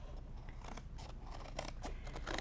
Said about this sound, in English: we're gonna cut right on that line on the inside slightly